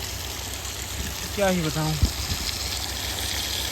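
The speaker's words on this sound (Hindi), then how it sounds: "मैं मोटर में पानी भरने आया था, मोटर का प्रेशर इतना तेज है" Electric water pump motor forcing water out at high pressure, a steady rushing gush heard throughout beneath someone speaking briefly.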